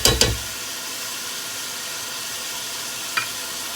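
Chicken pieces frying in oil for Lahori-style yakhni pulao, an even hissing sizzle opening with two loud clanks of a utensil against the pot and another knock near the end.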